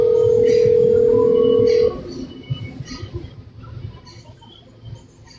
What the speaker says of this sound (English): Would you want to be connected in a phone call with him?